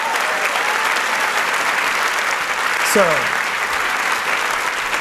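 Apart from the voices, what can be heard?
audience applause at a festival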